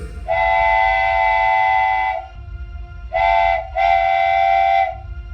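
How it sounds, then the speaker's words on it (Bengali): A train whistle sounds at a station as the train departs: one long blast, then two shorter ones close together, loud and near over a low rumbling background. "হুইসেল দিয়ে ট্রেন ছেড়ে দিল।"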